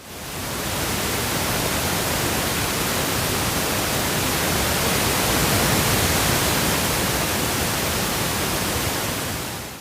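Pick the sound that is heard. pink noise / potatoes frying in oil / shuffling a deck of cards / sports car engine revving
pink noise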